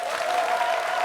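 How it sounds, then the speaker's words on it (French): A studio audience at a televised variety show breaks into steady applause, a brief, dense wash of clapping with a faint crowd murmur. "arrêtez d'applaudir. Applaudissez."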